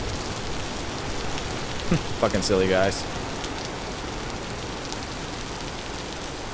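Rain in the video game Vintage Story falls as a steady, even hiss throughout, with a short burst of speech briefly over it midway.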